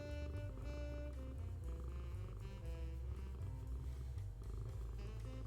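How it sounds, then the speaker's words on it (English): House cat purring right up close, a continuous low rumbling purr with a steady pulsing rhythm throughout, with no voices. "Let's see if she will purr."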